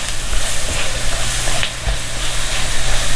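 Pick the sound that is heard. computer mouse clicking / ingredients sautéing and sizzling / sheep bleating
ingredients sautéing and sizzling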